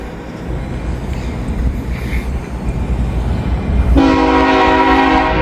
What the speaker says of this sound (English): We got another train coming. CSX